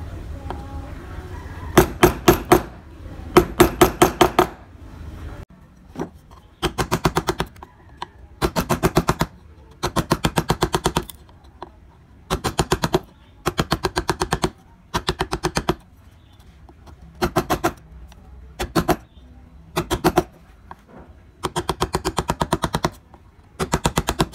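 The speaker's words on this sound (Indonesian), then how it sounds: "kemudian dicekungkan ke dalam menggunakan pahat kol ya" Wood carving with a gouge chisel, hollowing out a design: bursts of sharp, rapid tapping strikes in tight clusters, loud and close, separated by short pauses, with no talk.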